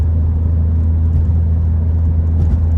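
A VW Mk4 with a 1.8T engine and K04-XLB turbo drones steadily from inside the cabin, a loud, continuous low rumble and whir of the engine under load with no talk over it.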